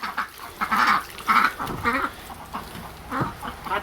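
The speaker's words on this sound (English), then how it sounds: "And here come the ducks." Ducks quack in repeated bursts on a farm during winter preparation, the calls coming in loose clusters, fairly close and moderately loud, with no talking over them.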